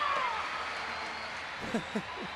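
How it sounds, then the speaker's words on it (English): Spectators at a women's hockey match between Argentina and Australia applaud goalkeeper Belen Succi after a save, a faint distant crowd wash beneath a commentator's voice. "listen to that applause for Belen Suchi"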